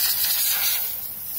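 Compressed air or an aerosol duster blows dust out of a first-edition PS4 console, a steady close hiss holding for about a second and a half with no talking.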